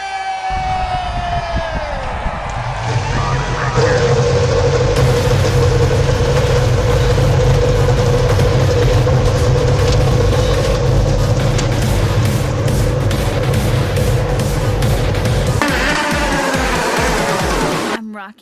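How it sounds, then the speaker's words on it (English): Race car engines on a starting grid at Brands Hatch in a racing video game idle with a steady low rumble under a crowd murmur, revving and rising near the end. "fire up these engines"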